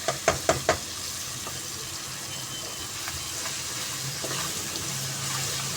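Chopped onion, garlic, ginger and tomato fry in a pan with a soft, steady sizzle, opened by a few quick knocks of a utensil against the pan.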